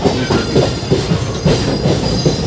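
A passenger train rolls along the rails through the countryside between Bikaner and Roorkee, its steady rumble overlaid with a repeating clickety-clack of wheels over joints, loud and close from inside the carriage.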